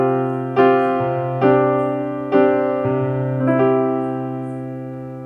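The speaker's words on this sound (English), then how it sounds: "Another very common way of resolving them is to actually replace the suspended note with the third." Piano plays a suspended chord, then resolves it by swapping the suspended note for the third, heard as four clear sustained strikes with a softer final change that rings out and fades.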